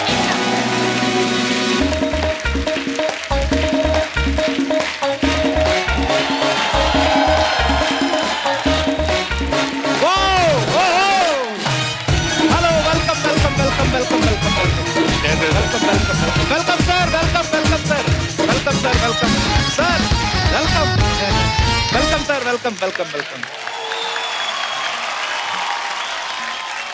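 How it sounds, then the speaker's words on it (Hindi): A studio audience on a TV comedy show claps loudly and continuously, with music playing underneath and a host's brief welcoming voice near the start, before the applause fades near the end. "जोरदार तालियां"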